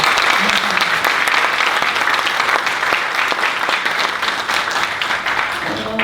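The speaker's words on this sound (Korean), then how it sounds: "큰 감사와 어, 격려의 박수를 여러분들이 우리 당원을 대신해서 힘차게 쳐주시기 바랍니다." An audience at a Korean political party leader's inauguration gives a sustained, loud round of applause, a dense, even patter of many hands that lasts throughout, with a brief voice near the start.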